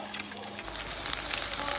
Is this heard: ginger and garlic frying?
yes